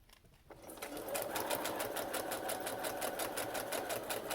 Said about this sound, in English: I'm just going to sew across the 4 sides.